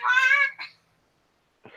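A human voice imitates a cat with one drawn-out, tonal meow up close, followed by a short trailing syllable, a pause of silence, and the start of further speech.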